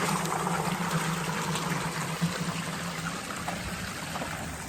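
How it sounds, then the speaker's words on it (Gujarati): Water gushing from an irrigation pipe fed by a motor pump in a pigeon pea field, a steady, close rushing and trickling flow with a low hum underneath, continuous throughout with no talk. "તો હાલ્યું જાય પાણી. નીકળી ગયું પાણી."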